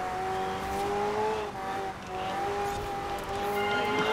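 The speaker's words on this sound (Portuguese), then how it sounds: "eu vou sair cantando pneu todo" McLaren Senna in the Forza Horizon 4 racing game squealing its tires through a drift, a sustained high tonal screech over a steady engine roar, loud and close with no speech.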